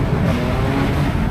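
A supercharged 2009 Audi S5 Convertible accelerating hard, its engine giving a steady, loud, continuous low roar that holds without a break.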